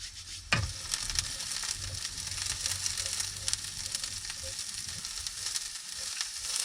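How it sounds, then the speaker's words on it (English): Gentle, continuous sizzling of food frying in a pan, with a soft clatter at the start and faint stirring scrapes throughout. "Get them frying nicely."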